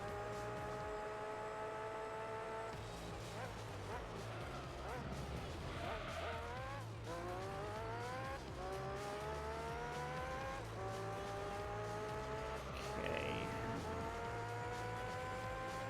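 A Formula-style race car in Gran Turismo 3 screams at full throttle through repeated upshifts, its engine pitch climbing and dropping, with brief tire squeal through a chicane; a voice talks over it.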